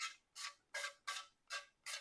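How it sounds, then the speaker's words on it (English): Cooking oil sprayed onto parchment paper lining an 8x8 baking pan, heard as six short, soft hissing bursts in a steady rhythm, close but faint. "I'm just going to spray it with a little bit of oil."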